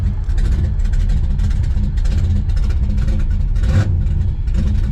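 A Chevrolet El Camino engine fires up and revs, its loud, steady low rumble filling the air throughout with a brief surge of throttle near the end.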